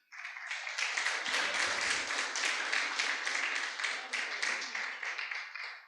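A Baptist church congregation in Santo Amaro da Imperatriz breaks into lively applause, many hands clapping in a quick, uneven patter that holds steady for several seconds after a brief low thump at the start.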